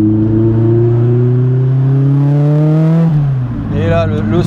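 A Renault R5 Turbo 2, still being run in, pulls hard with a loud engine note whose pitch climbs steadily for about three seconds, then drops away as the throttle eases; a brief voice may come in at the very end.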